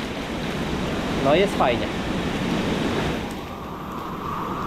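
Water pours steadily into an indoor pool at the Termy Maltańskie aquapark in Poznań, a broad continuous splashing roar with brief voices and a short burst of talk partway through.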